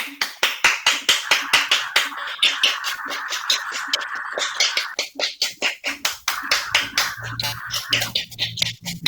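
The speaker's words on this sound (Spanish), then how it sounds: "Un fuerte aplauso nuevamente para el doctor Luis Cano." A small group claps for Dr. Luis Cano at a hospital talk on COVID-19 complications. The claps are sharp and fairly close, spread irregularly over several seconds with no voices.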